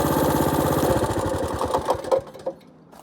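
A mini bike's small engine runs close by, its fast, buzzy pulsing steady at first, then turning rougher and uneven, with a few sputtering knocks before the sound thins out near the end.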